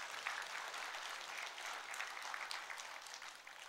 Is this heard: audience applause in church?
yes